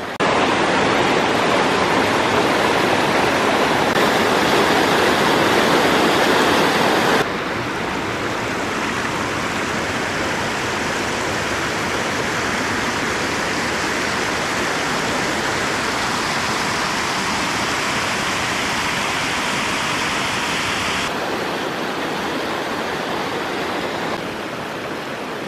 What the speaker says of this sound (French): le chemin il passe dans une gigantesque cascade